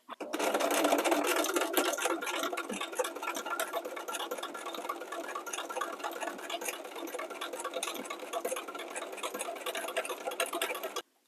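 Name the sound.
sewing machine stitching zigzag on castor oil pack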